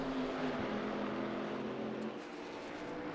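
Race cars in a GT3 and GT4 league event at the Hungaroring in a racing video game, with a continuous, fairly loud engine drone that shifts pitch as cars pass through a corner.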